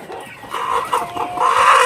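Chickens cluck on a poultry farm raising birds about 70 days old for meat, a busy overlapping chorus of short calls that grows louder toward the end, with no talk.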